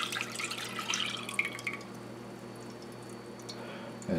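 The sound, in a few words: pouring milk into a pot for Parker House rolls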